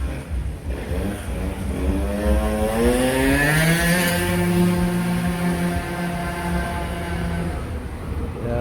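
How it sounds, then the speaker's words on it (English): A noisy motorbike revs and passes along a town high street, its engine note rising and then falling away over several seconds, loud and alone without talk. "We all have one noisy bike when you don't want it"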